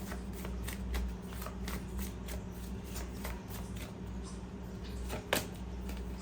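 A deck of tarot cards is shuffled and drawn for a reading, making a steady close-up papery rustle and riffle that runs throughout, with one sharper card snap near the end and no talking.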